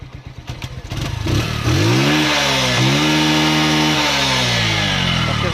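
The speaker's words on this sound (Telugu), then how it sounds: "ఒకసారి ఇందాకటికి ఇప్పటికి ఇంజన్ నాయిస్లో కూడా మనకి కొద్దిపాటి స్మూత్నెస్ అనేది అర్థమవుతోంది." Engine running after a water fuel treatment, starting with uneven sputtering pulses, then climbing into a loud revving roar that dips and rises before settling into a steady close drone.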